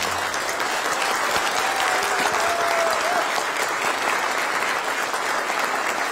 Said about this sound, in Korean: 큰 박수로 환영회와 환송사를 마치겠습니다